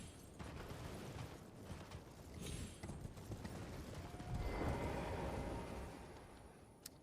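Horse hooves clip-clopping at a gallop in the video game Elden Ring, a steady rhythmic pounding under broadband game ambience, with a louder swell of hoofbeats midway.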